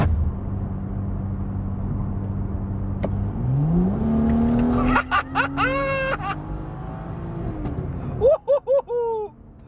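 A BMW M235i accelerates hard, its engine note rising steadily to a rev-limited whine. Quick pops and gear-change gaps follow, with a short burst of throttle at the end.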